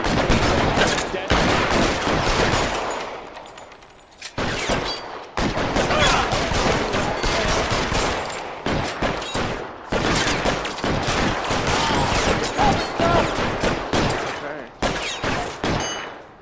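Dense gunfire in the video game L.A. Noire, sustained loud bursts of shots and rapid fire with brief pauses, filling most of the stretch while a voice speaks occasionally.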